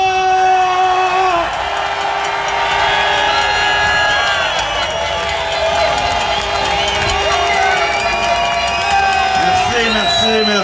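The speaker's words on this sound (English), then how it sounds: "j'invite à applaudir chaleureusement" A large crowd at an outdoor rally in Quebec cheers and whoops continuously with applause mixed in, loud and sustained, with voices and music-like tones running underneath.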